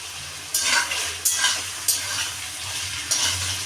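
Carrots and beans frying in mustard oil in a kadai, a steady close sizzle with a few sharp bursts as vegetables are tossed in and stirred.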